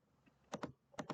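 A few sharp computer keyboard keystrokes land in two quick pairs, close and crisp against a quiet room with no talking.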